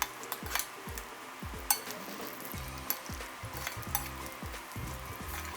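Something sizzles and fries in ghee in a pan while cooking Paruppu Payasam, with a steady crackle broken by repeated scraping stirs and light clinks of utensil on metal.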